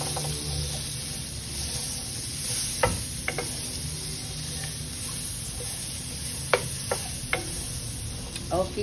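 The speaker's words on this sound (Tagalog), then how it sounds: "To start, I'm gonna add the bacon." Bacon frying in a pan for a creamy garlic pasta, a steady close sizzle running throughout with a few sharp pops and clicks of utensils on top.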